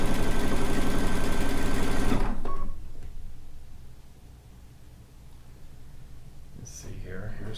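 A sewing machine stitches a rag quilt at high speed for about two seconds, loud and close, then stops abruptly, leaving quiet room tone.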